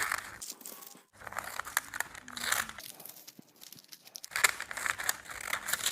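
Parchment paper being snipped at four corners to line a brownie pan, giving close, dry crinkling and rustling with brief tearing crunches, a short pause near the start and another lull toward the end.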